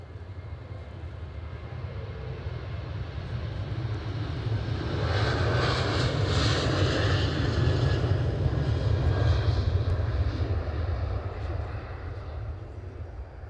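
A Qatar Boeing 787 Dreamliner roars nearby taking off from Edinburgh, a low rumbling engine drone that swells to a peak in the middle and slowly eases off.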